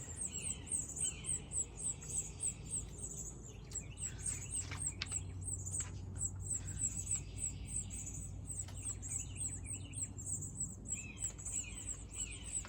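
Small birds chirp and squawk in quick, repeated high calls while a parent bird feeds its young, the calls coming in steady bursts over a quiet outdoor background with no talking.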